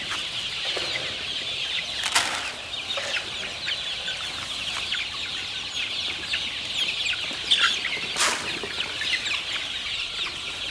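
Backyard chickens in a flock cluck and squawk continuously, with a few loud bursts of wing flapping rising over the steady clucking.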